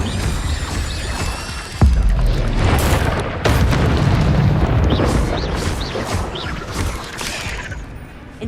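Incendio fire spell cast in Hogwarts Legacy on PS5: a sudden booming burst of flame near two seconds, then a rolling roar and further crackling blasts, over busy game effects with a faint voice.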